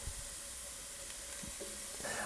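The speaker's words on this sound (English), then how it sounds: "About 3 minutes in, I'm going to add my minced garlic clove." Minced garlic sizzling over a medium-low flame in a pan of softened vegetables for shrimp risotto, a quiet steady hiss with a couple of soft knocks and a brief brighter crackle at the end.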